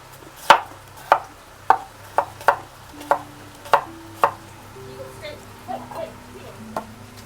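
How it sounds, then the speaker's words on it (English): A knife roughly chops a garden cucumber on a board in an outdoor kitchen: about eight crisp, close knocks at an uneven pace, then a few softer, sparser cuts. "So this will be just roughly chop all the cucumber."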